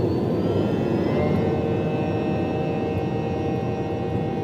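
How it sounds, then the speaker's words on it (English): Loud, steady roar of an Airbus A319 airliner's jet engines spooling up for takeoff, a continuous low rumble with a rising whine layered on top. "Let's watch the takeoff."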